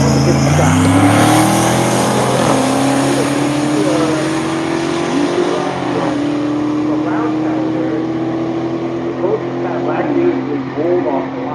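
Engines roar loudly as street cars roll-race off the line at a drag strip and accelerate hard, the revving rising and sustained, with a voice talking over the noise.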